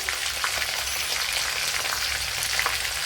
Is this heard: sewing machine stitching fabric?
no